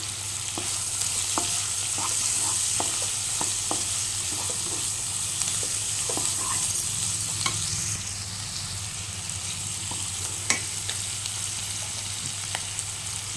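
Sliced onions and curry leaves with salt stirred in hot oil in a pan, a continuous sizzling hiss broken by repeated soft scraping taps of the spoon throughout.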